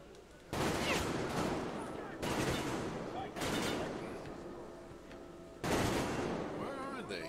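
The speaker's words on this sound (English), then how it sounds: "They shooting at me again, but I don't see where they're at." Enemy gunfire in Metro Exodus comes in four loud bursts of rapid shots, spread over several seconds with short gaps between them; a voice may be talking underneath.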